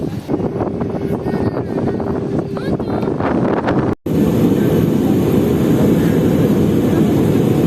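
An airplane sits on the airport tarmac. Its engines make a loud, constant roar mixed with wind buffeting the microphone, and after a brief dropout the roar resumes as a dense, even rush.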